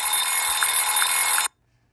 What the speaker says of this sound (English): Salakia, about to have to cut my alarm off.